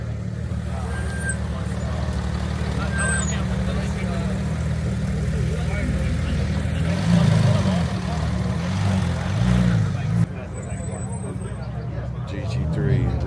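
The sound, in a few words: Porsche GT3 sports car driving down the street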